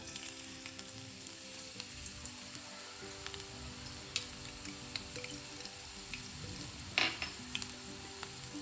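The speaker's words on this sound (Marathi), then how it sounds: "तेल गरम झालंय, इथं लसूण टाकू आपण आता" Garlic sizzles and crackles in a little hot oil, a steady frying hiss with occasional sharper pops and a brief utensil clink, no talking.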